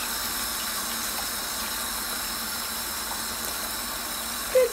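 A faucet runs in a steady, even hiss of water while a fawn drinks from it, continuous and moderately close with no talking.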